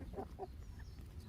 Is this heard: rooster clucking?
yes